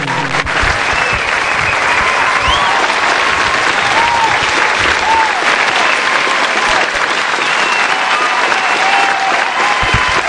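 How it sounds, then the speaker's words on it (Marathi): Loud, sustained crowd applause for a six at a local tennis-ball cricket match in Tembhare, a dense continuous roar of clapping with cheering mixed in, steady from start to end. "प्रेक्षकांच्या वतीनं या षटकारासाठी टाळ्यांचा कडकडाट तुम्हाला पाहायला मिळतोय"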